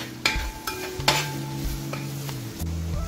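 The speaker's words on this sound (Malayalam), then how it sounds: "ഇനി നമുക്ക് വെളുത്തുള്ളി ഇട്ട് കൊടുക്കാം" Garlic, about two and a half tablespoons, dropped into a hot pan while cooking masala beef fry, giving a steady sizzle with a few sharp stirring clatters and a background tonal hum.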